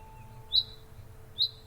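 Two short, bright bird chirps ring out outdoors in the morning, spaced about a second apart over a quiet, faint background hum.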